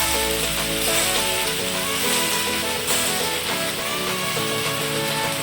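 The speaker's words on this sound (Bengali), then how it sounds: "পাস্তাটা আমি হালকা করে ভেজে নেব" Pasta is lightly fried in oil in a wok, giving a steady, close sizzle that runs the whole time, with a sustained tonal background underneath and no talking.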